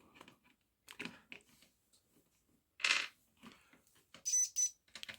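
A device on a Recon MK2 semi-automatic under test gives short electronic beeps: one bright tone near the middle, then a pair of higher beeps toward the end, with clicks and handling noises between them and no speech.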